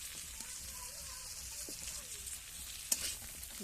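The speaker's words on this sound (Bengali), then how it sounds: "এবারে আমি মশলাটাকে ভালোভাবে কষিয়ে নেব" Spice masala sautéed in oil for khichuri makes a soft, quiet sizzle with stirring scrapes, with a sharp clink near the end, all fairly faint and without talk.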